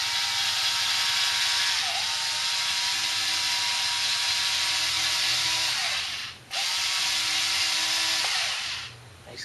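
Skil power cutter slicing through material, a steady high-pitched motor whine with brief dips as the blade bites, close and loud with no talking.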